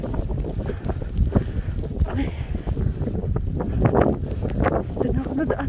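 Strong wind during a snowstorm in Madrid roars and buffets the microphone in continuous rough gusts, loud and close, while a person briefly exclaims and speaks over it.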